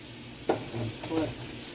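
Anchovies sizzling in a pan on high heat, a soft frying hiss with a couple of brief stirring scrapes, close and fairly quiet.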